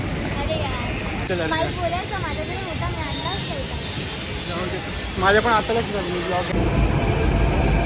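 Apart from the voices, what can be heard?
metro train arriving at station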